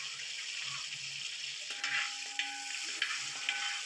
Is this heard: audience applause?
no